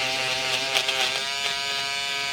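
A Peggy stitch eraser, a small electric trimmer, pressing along embroidery thread to cut it away, a steady close high-pitched motor buzz that wavers slightly under load, continuous throughout with no talking.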